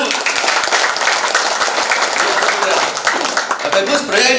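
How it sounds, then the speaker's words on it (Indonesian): Seminar audience applauding at a live event in a Surabaya hotel, a loud, sustained burst of many people clapping together in a large room, with a voice speaking over it. "Tepuk tangan Bapak Ibu."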